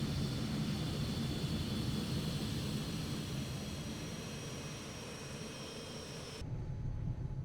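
The Tornado jet's engines idle in Microsoft Flight Simulator, giving a steady, loud whine and rush with high tonal lines, holding level throughout and changing slightly near the end.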